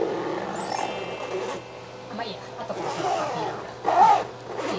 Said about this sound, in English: The zipper can be opened one-handed